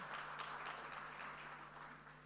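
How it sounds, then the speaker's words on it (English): Steady applause from an audience at an office launch event, a continuous dense patter of clapping at moderate level that holds for the full length and fades only slightly toward the end, with no speech. "Please give him another round of applause."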